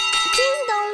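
A big brass bell on a cartoon fire engine rings out in a single bright, sustained clang that shimmers and fades over about a second, close and loud, with no talk over it.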